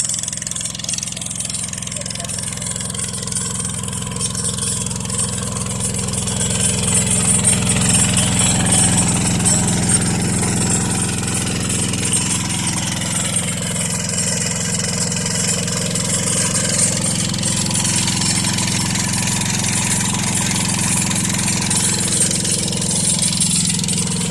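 A small 6.5-horsepower gasoline engine runs steadily with a low, constant drone throughout, growing slightly louder partway through, with no speech over it.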